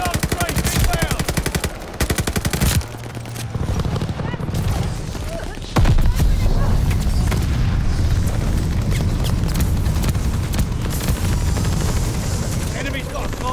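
An airstrike in a combat game, Type 100 loadout, brings rapid machine-gun fire that gives way to a loud, sustained roar of heavy explosions that stays close and continuous.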